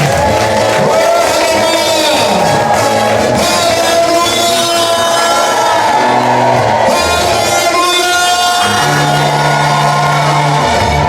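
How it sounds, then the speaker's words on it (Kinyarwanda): A church congregation cheers loudly for God in a dense roar of shouts and whoops. The mass of voices is thick and continuous, while individual clapping is hard to pick out. "Tukomere Imana amashyi menshi cyane."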